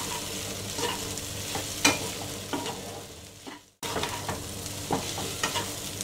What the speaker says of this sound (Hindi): एक मिनट तक मैंने इसको फ्राई कर